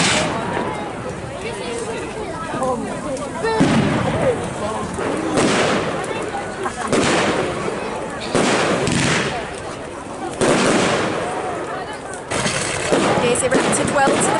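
Bonfire Night fireworks go off outdoors in a run of booming bursts and crackles, loud and echoing, separated by short gaps, with people talking nearby between and over the blasts.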